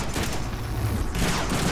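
Gunfire in the Deadpool video game, a steady fusillade of shots rattling on under a dense mix of game noise, moderately loud and continuous across the whole stretch.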